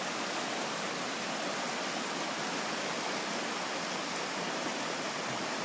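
Water rushing at the source of Trapp Falls in Ashby, Massachusetts, swollen by recent rain, a dense, steady roar of flowing water with no voices.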